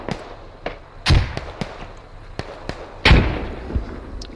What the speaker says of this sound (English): Grenade didn't work too well.